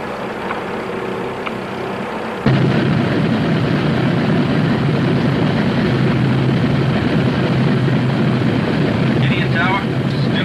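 Propeller engines of the B-29 bomber Enola Gay idling on the runway at Tinian before takeoff, a low rumble that jumps abruptly to a loud, steady roar, with a voice talking over it.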